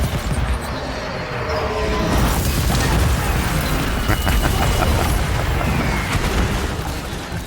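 Artillery volleys in the Total War Warhammer 3 battle, Gelt's Empire with crossbows and mortars, as a dense, continuous rumble of booms and blasts that runs throughout without pause.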